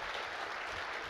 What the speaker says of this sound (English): let's give my father a round of applause